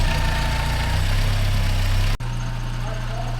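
A car engine idling close by at about 900 RPM, a steady low rumble with a brief dip in the middle, otherwise constant.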